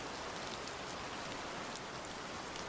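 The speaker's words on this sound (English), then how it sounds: "I like listening to the rain" Steady rain falls throughout, a dense continuous hiss of drops striking surfaces with no voices and no break.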